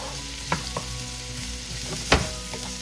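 Carrots sizzle steadily in a hot pan for Filipino escabeche, a constant frying hiss with a couple of brief clinks or stirs breaking through.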